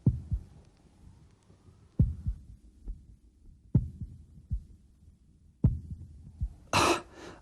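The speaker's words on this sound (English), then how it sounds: "My heartbeat isn't as slow as it should be." Slow, thudding heartbeat pulses recur at irregular intervals of roughly one to two seconds, close and amplified as if through a stethoscope, with a brief burst of rustling noise near the end.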